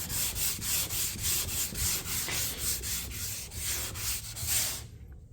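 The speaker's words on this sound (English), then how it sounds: "I got plenty of sanding to do" A car body being sanded by hand for paint prep on a small blue Camaro, with steady rhythmic back-and-forth rubbing strokes repeating about twice per second, close and even, with no talk.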